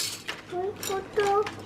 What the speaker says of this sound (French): Ethan, vas-y, dispose tous les couteaux